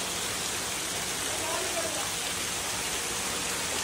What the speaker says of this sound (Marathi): हे पहा झरे